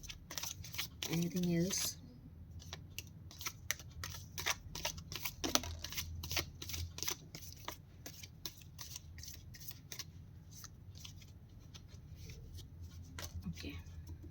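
Tarot cards are shuffled by hand during a card reading, giving a quick series of close, crisp riffling snaps. A person speaks briefly between the shuffles.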